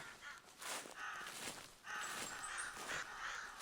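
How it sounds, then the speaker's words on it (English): A series of crow caws echoes across the quiet woods of theHunter Classic, several rough calls repeating at a moderate distance. "So right now I'm hearing the crows a lot more than anything else."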